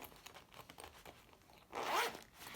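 A zipper on a pencil case is pulled open in one quick, close rasping stroke after some soft handling and rustling.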